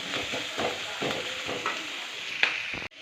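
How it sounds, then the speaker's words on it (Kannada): Onion, curry leaves and garlic frying in hot oil while being stirred, a close steady sizzle broken by soft scraping strokes at a relaxed, even pace. "ಇವಾಗ ಚೆನ್ನಾಗಿ ಫ್ರೈ ಮಾಡ್ಕೊತಾ ಇದ್ದೀನಿ"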